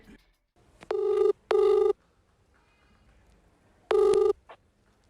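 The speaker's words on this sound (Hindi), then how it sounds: "थक हार कर हमने उन्हें फोन किया" Outgoing telephone call ringback: three loud, evenly pitched electronic rings in separate bursts with quiet gaps between them, heard alone in a near-silent line.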